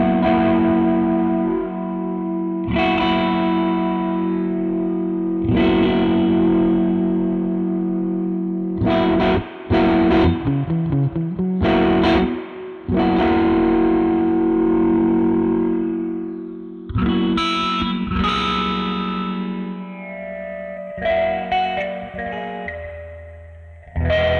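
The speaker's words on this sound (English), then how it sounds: "I'm going to start with the width at 0, so we can comb through the center point" An electric guitar runs through a Death By Audio Disturbance phaser/flanger set to zero width. Sustained chords and notes swirl under a slow sweeping comb-filter effect, loud and continuous with some restrikes and no talking.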